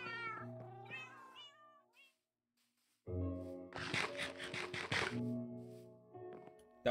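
A cat meows repeatedly inside the video game Minecraft, with several distinct drawn-out meows, a brief silence, then a louder burst of meowing mixed with a sharp scratchy sound, clear and close.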